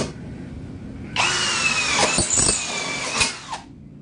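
A Ronix 8905K 20 V cordless hammer drill starts up loud and close, whining steadily for a few seconds while it bites into material, with a couple of sharp knocks near the end before it stops; no one speaks.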